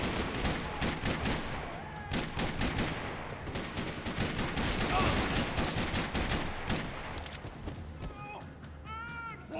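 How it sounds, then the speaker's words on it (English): Sustained rattling gunfire from the video game Max Payne, dense bursts of shots filling the clip loudly, with shouting voices rising near the end. "Another parking lot rattling with gunfire."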